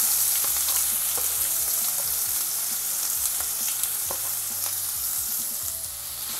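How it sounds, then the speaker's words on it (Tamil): Steady, crackling sizzle of onions frying in hot oil, dense and continuous with small pops throughout, close by and fairly loud. "வெங்காயத்தை நல்லா வதக்கிக்கலாம்."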